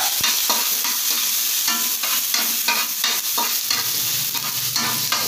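Ginger sizzling loudly in hot oil in a pan while being stirred for a laing dish, a dense continuous fry with repeated scraping strokes of the utensil, close and with no voices.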